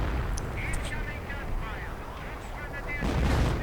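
Artillery barrage and gunfire in a WWII strategy video game, several sharp booms and cracks scattered over a busy, moderately quiet battle background, with a heavier burst of blasts near the end.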